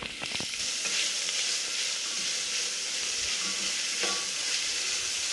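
Onions sautéing in coconut oil in a pan for an egg curry, a steady bright sizzle with the occasional scrape and clack of a stirring utensil against the pan, close and continuous.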